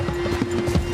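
Horse hooves clip-clop in a quick, steady rhythm as a horse is ridden through a video game, close and fairly loud against a constant background hum.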